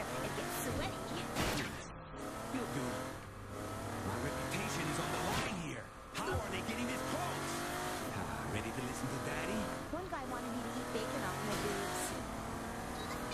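Car driving in the Saints Row: The Third video game, with engine revving and tire squeals running loud throughout, underneath continuous talking and game dialogue.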